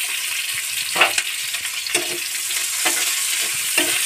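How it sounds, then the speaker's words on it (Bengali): Chopped onions and green chillies fry in a pan for a spicy kachki fish chorchori. A constant bright sizzle runs throughout, broken by several soft stirring scrapes roughly once a second, close up. "তো এর মধ্যে আমি এবার দিয়ে দেবো পেঁয়াজ আর লঙ্কা দিয়ে দাও"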